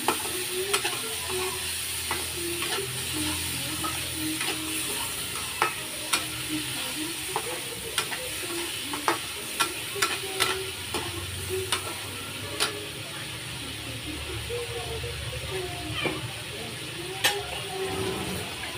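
Food sizzling steadily in a frying pan as a spoon stirs it for a budget Filipino dish, with a constant hiss broken by regular sharp scrapes and clinks against the pan, close up.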